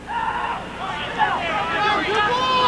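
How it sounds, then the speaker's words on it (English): Crowd of AU fans taunting at a 1997 AU versus UVA basketball game, a dense roar of shouting and jeering voices that holds steady and swells slightly toward the end. "As the crowd taunts even more"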